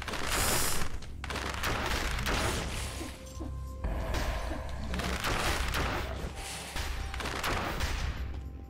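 Dense, continuous gunfire and crashing blasts from shooting at grenades in the video game Dead Cells fill the stretch loudly and without pause, with a brief dip near the start before the barrage resumes.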